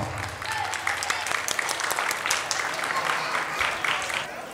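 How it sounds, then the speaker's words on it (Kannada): An audience in a parish hall gives warm, continuous applause to welcome a priest onto the stage at his silver jubilee celebration, with crisp overlapping claps held at an even level throughout. "ನಾವು ಈ ವೇದಿಕೆಯ ಮೇಲೆ ಚಪ್ಪಾಳೆಯಿಂದ ಸ್ವಾಗತಿಸೋಣ"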